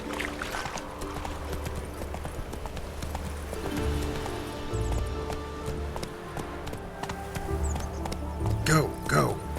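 Horse hooves clip-clopping at speed in The Witcher 3, a steady drumming rhythm under game music, with a brief whinny and a voice speaking near the end.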